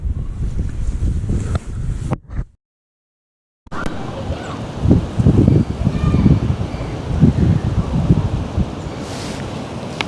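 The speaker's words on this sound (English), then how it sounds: "Although the wind's been getting up, but because I've been fishing to the left, it's been reasonably comfortable" Wind gusts at a riverbank during winter margin fishing, making a loud, rough rush across the microphone that briefly drops out, then returns and keeps buffeting steadily.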